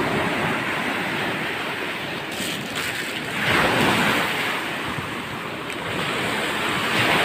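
Big ocean waves roll and wash at sea beside a small fishing boat, with steady loud surf and wind buffeting the microphone, swelling in a couple of heavier surges.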